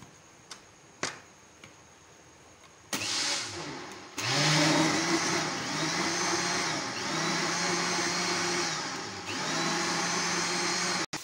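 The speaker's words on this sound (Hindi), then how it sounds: "अब इसको ब्लेंड करेंगे।" A few sharp clicks, then an electric blender motor starts up loud and close, whirring with a steady high-pitched roar as it blends a kadhi spice and gram-flour mixture, its pitch shifting slightly partway through, with no talking.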